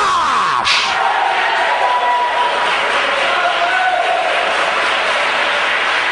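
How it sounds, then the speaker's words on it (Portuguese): A large crowd at a church service cheers and claps continuously, a dense roar of applause and voices filling the space at steady loudness. "dá uma salva de palmas para Jesus"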